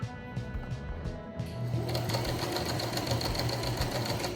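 A sewing machine stitches a railroad zipper seam, starting with a few short bursts before settling into a steady, continuous close-up whir of the motor and needle.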